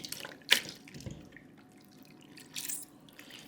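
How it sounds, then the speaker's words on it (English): Wet recycled paper pulp is squeezed by hand, releasing a few short splashes and trickles of water into a container, close and quiet with pauses between. "Squeeze the water out."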